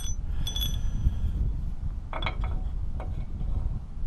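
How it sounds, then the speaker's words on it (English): Metal clinks and scrapes as a washer is worked off a trailer tongue, with a few short metallic taps early and later over a low background rumble. "I'm gonna take this washer off here."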